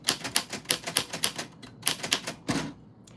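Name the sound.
typing on an old typewriter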